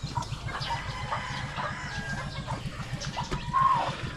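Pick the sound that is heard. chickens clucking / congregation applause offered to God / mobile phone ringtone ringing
chickens clucking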